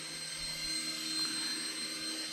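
A Hornet mini radio-controlled helicopter at full throttle on a low battery: a steady, high-pitched electric motor whine with rotor buzz, continuous and close.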